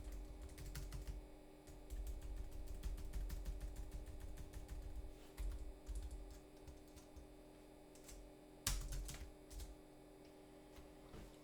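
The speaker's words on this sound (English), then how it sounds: "The keyboard seems to work, as we can move around with that." Keys clatter on a Commodore CDTV computer keyboard in irregular bursts of close clicks and taps, with pauses between groups and a faint steady electronic hum behind.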